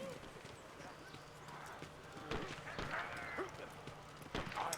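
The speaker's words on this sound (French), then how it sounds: "Il y a cheval." Horse hooves clip-clop in the World War I video game Valiant Hearts, sharp and fairly close, in an irregular trotting rhythm over faint ambient game sound.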